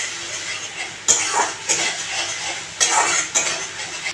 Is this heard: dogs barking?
no